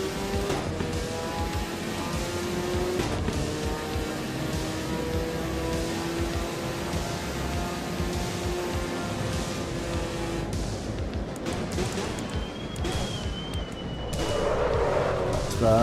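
Fast car cruising in the Assetto Corsa EVO racing game, a sustained engine tone that holds steady, then thins near the end as a brief hiss and rumble rise.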